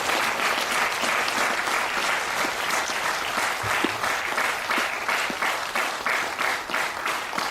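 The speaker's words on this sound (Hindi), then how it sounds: "उन सारे हम पिरामिड मास्टर्स को हम तालियां बजाएंगे।" Large audience at a Hindi spiritual gathering clapping continuously, a dense, loud and even roar of many hands that stays steady throughout without speech on top.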